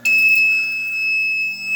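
Steady electronic tone from a zone fire alarm control panel after a reset, a continuous high beep with a faint low hum underneath, lasting under two seconds.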